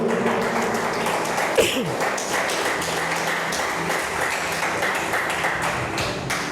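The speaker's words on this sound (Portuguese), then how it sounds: "Pode aplaudir o Senhor." Applause from a church congregation during a Portuguese-language sermon, a steady broadband patter of many hands clapping close and loud, sustained for several seconds without a pause.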